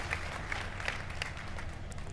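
Audience at the Bethesda E3 showcase applauding, a steady wash of many hands clapping throughout, dense and even, heard at a distance in a large hall.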